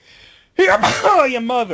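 A single loud, close sneeze bursts out after a near-silent moment, followed at once by a voice talking.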